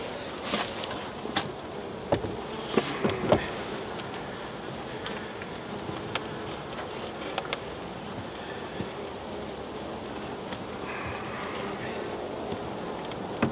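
Honeybees fill an opened hive with a steady, close, low-pitched buzz that continues throughout, with faint handling knocks and brief clatter as hive parts are moved.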